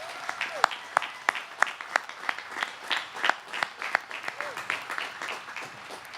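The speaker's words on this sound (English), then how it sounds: "now would be a good time to show our appreciation with a round of applause" Scattered applause from a stadium audience at the Chelmsford High School 2021 graduation, sparse distinct claps with sharp peaks over faint crowd murmur and brief voices, fairly quiet and distant.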